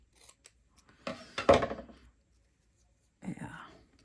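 Close scissors cut a skinny strip of vintage paper for a collage, a few crisp snips followed by a short pause and another brief cut, with soft handling noises.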